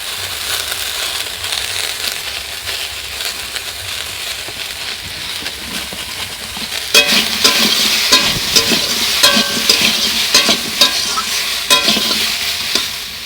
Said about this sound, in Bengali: আর পটল ঝিঙ্গাটা এখন ভাজা করছি